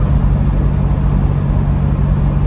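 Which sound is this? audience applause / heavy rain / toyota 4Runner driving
toyota 4Runner driving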